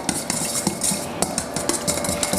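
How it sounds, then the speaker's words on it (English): Ingredients being whisked together in a bowl, a rapid, steady run of clinking metal strokes against the side, close and loud with no voices. "if you would take the whisk and sort of whisk that"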